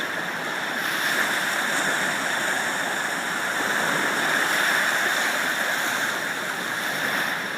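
Ocean surf rushes in a continuous, broad wash of water noise, steady and moderately soft, with only gentle swells in level and no voices.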